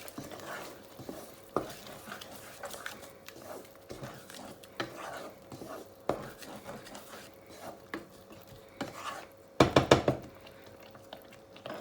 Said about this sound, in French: Remuer le tout.